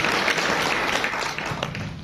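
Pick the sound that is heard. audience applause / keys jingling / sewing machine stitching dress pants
audience applause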